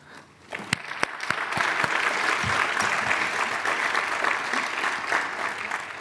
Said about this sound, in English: let us give a big round of applause for all the participants and the people in the room